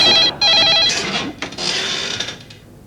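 A telephone ringing as a call is placed at home, a couple of bright electronic ring bursts with a short gap, followed by a rustling, mechanical handling noise.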